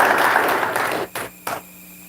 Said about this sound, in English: So go ahead and thank you to everybody. A round of applause for Davey and Alex.